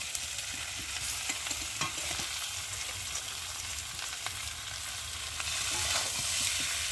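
Boiled jackfruit frying with spices in a pan, a dense close sizzle with a busy rhythm of spatula scrapes and stirring taps, getting slightly louder toward the end, with no voices.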